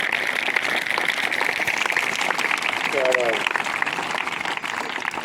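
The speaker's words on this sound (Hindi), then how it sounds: "जोरदार तालियां बजाएं।" Loud applause at a senior secondary school ceremony honouring children who won first place in a 60-metre race: dense, sustained clapping from a crowd, steady and close, with voices mixed in underneath.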